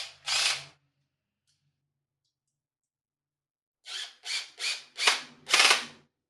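A drill fitted with a flexible shaft extension drives hex screws: one short whirring burst, a long silence, then five quick close bursts in a row, with no talk.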